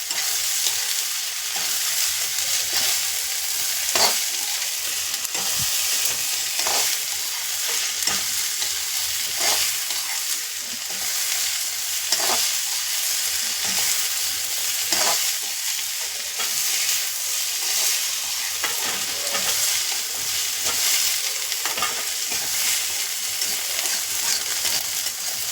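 A spatula stirs spiced cauliflower paratha filling with a little sugar in a hot pan: a steady close sizzle of frying with regular scraping strokes against the metal, continuing without talk.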